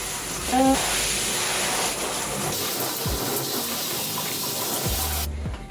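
Tap water runs at a sink while hair is being rinsed, a steady close hiss of spray that shifts in tone partway through and then stops abruptly near the end.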